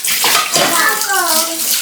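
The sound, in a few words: washing heavy dishes under running water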